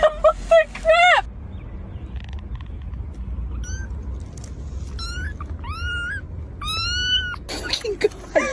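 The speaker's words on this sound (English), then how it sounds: "Where did you guys find 6 black cats?" Several black cats meowing in turn inside a parked parts car, a run of short rising and falling cries at close range, with a person reacting in speech at the start and end.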